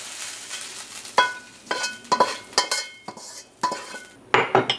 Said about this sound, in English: Now we can add these into the garlic. You just stir them around